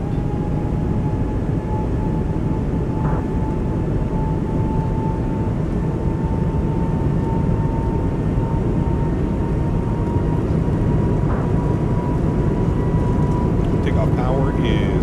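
Airbus A220 jet engines run at takeoff power in a flight simulator, giving a steady loud roar with a constant whine that holds through the takeoff roll, while someone talks over it.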